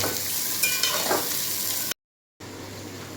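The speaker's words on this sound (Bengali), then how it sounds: "পেঁয়াজটা ততক্ষণে ভাজা হোক।" Onions frying in a pan, a steady close sizzle with a few scraping stirs, cut off by a brief silent gap before the sizzling resumes.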